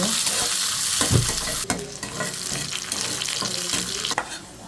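Two dry chilies, a bay leaf, whole cumin, chopped onion and garlic fry for a dal tempering, producing a loud close sizzle with crackling pops and stirring knocks against the pan.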